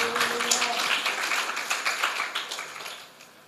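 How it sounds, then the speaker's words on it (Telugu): A church congregation claps loudly during a sermon, a dense burst of many hands that carries on steadily and then fades toward the end, with a faint voice at the start. "చప్పట్లు కొట్టండి గట్టిగా."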